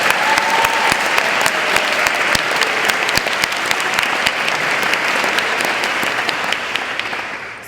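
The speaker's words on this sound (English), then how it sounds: "So if we could just join in one more round of applause for all the speakers." Sustained audience applause for speakers at a state high school debating final, many hands clapping in a hall, loud and even throughout, fading slightly at the end, with no talk.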